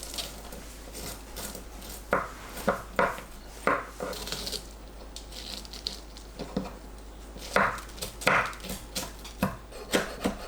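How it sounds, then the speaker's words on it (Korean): A knife chops green Cheongyang chili and red chili peppers on a board, sounding as a series of crisp, irregular taps and thuds in short bursts over a quiet background. "청양고추를 반 가루고 잘게 썰어서 준비합니다."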